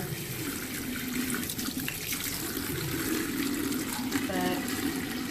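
A tap runs steadily into a sink while hands are washed, a close, continuous splashing hiss with small shifts as the hands move through the stream.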